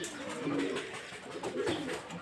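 Pigeons coo nearby in low, throaty warbles, two soft rolling calls close together.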